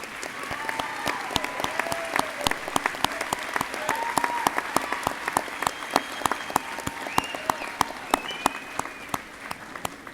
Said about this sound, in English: I want you to stand up and give your support system a round of applause.